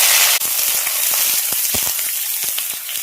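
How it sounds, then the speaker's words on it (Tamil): Sliced onions and curry leaves frying in hot oil in a pan, a steady loud sizzle throughout with brief crackles and stirring clicks, no talking. "இப்போ கட் பண்ணி வச்சுருந்த வெங்காயம் கருவேப்பிலை சேர்த்துக்கலாம்"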